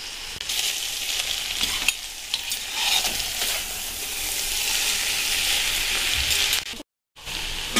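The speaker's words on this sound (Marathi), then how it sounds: "आता आपण हे मिक्स करून घेऊया।" Chopped spring onion greens stir-fry in a hot pan, a loud continuous sizzle with scraping stirs throughout, close by, dropping briefly to silence near the end before resuming.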